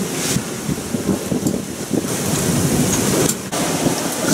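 Strong wind of around 20 knots roars over a sailing boat at sea on a rough passage from Tahiti to New Zealand, a loud constant rushing with gusty buffeting and a few sharp knocks.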